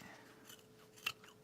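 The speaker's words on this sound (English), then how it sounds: "I'm going to trim this edge down so that the curves better." A single quick snip of scissors trimming the edge of thick fabric for a duffle bag, close and soft, preceded by a faint rustle of the material.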